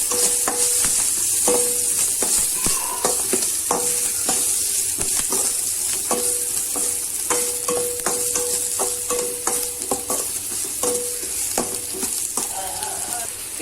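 Schezwan fried rice being stirred and tossed in a hot pan, with a steady loud sizzle broken by repeated clinks and scrapes of a spatula against the metal throughout.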